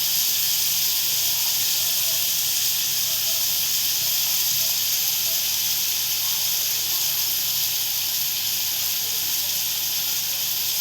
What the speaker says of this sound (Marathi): कांदा आहे ना आपण परतवून घेते.